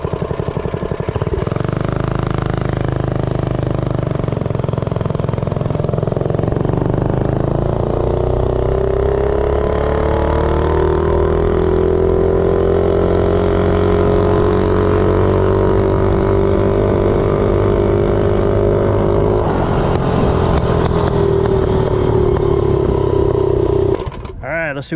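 A Doodlebug minibike, geared 66 with a 5.5 ratio, runs flat out at top speed, its small engine droning loud and close in a steady rising whine that holds for most of the run before cutting off, with a voice speaking briefly early on.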